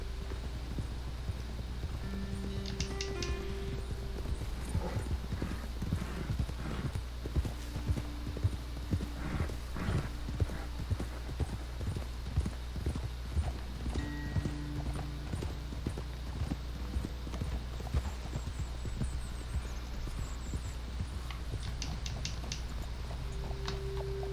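Horses' hooves clip-clop steadily on a trail in Red Dead Redemption 2, a close, continuous rhythm of several animals walking over a low ambient hum, with a brief whinny and no talk.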